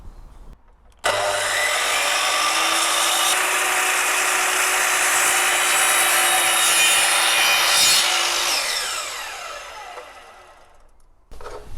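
Hand saw cutting an angled line through wooden architrave at a door frame, a loud continuous rasping of rapid strokes sustained for around ten seconds, close up, with no talk.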